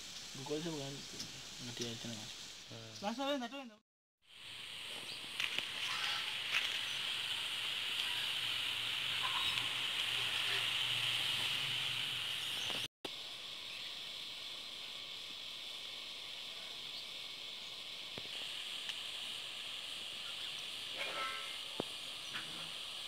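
Steady hiss of steam escaping from a new clay pot cooking spicy village-style chicken over a wood fire, loud and continuous for most of the stretch, with brief voices at the start and a softer hiss toward the end.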